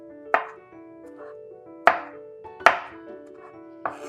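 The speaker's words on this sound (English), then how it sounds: "we are just going to begin cutting across the broccoli and chopping it." Four sharp knife chops through broccoli on a cutting board, irregularly spaced, close and crisp with pauses between strikes.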